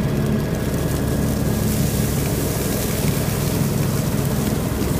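A John Deere X724 lawn tractor blows leaves with a continuous broad engine and fan roar, steady and close throughout with no voices.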